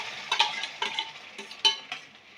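Cooked wheat being stirred in ghee in a kadai for kheer, with a series of soft scraping and clinking strokes of the spoon against the pan, close and with no talking.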